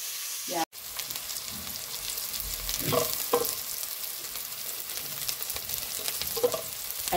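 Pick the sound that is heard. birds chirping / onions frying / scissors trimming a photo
onions frying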